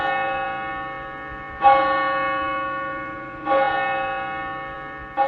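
A large, heavy bell strikes three times at an even, slow pace, each deep ringing stroke swelling and then fading into a long humming decay before the next one lands; no voices are present.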